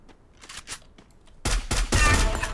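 Gunfire in a mobile battle-royale video game, with a few scattered distant shots followed by a loud, close burst of rapid automatic fire.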